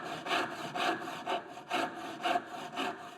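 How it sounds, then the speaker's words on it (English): Tenon saw cutting through wood in steady back-and-forth strokes, about six rasping pulls in a regular rhythm, close and clear with no talking. "So what I might do there is go in with a tenon saw"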